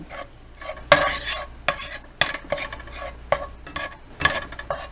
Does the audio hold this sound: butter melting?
yes